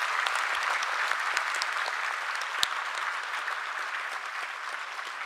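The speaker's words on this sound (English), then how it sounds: "a big round of applause to the Faculty of Traditional Medicine." Graduates and guests at a university of medical sciences convocation in Bhutan applaud in a broad, continuous wash of clapping, fairly distant and even, with one sharp knock partway through.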